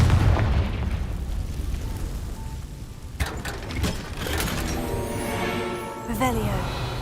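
Booming spell blasts go off in a Harry Potter video game, with a Confringo blasting-curse explosion among sharp bursts over a dense, noisy background, and a voice speaking.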